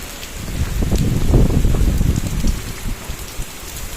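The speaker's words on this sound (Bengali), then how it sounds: "বাবা পুরা বৃষ্টি পড়তেছে" Heavy rain pours down outdoors during Cyclone Remal, a loud, dense, continuous roar of drops striking nearby surfaces, swelling slightly in the middle and never letting up.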